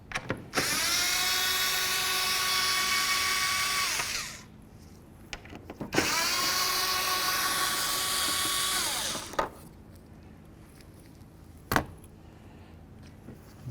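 A power tool on a 2008–2020 Dodge Grand Caravan removes the 10 mm tail light housing bolts, in two loud, steady bursts of about four seconds each. A short click follows near the end.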